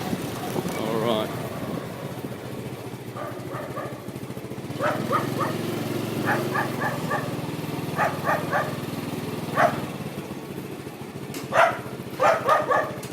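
A dog barks in short bursts on a street in Lang Bau Chi during a ride, several yaps spread through the clip over steady vehicle and engine noise, with some talk now and then.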